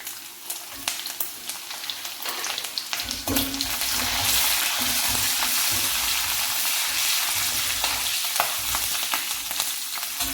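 Green chillies fry in curry masala for a Kerala-style chicken curry, starting with a few quiet taps and stirs before the sizzle swells into a loud, steady hiss that holds to the end, with no talking.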